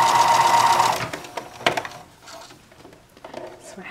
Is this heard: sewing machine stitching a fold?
yes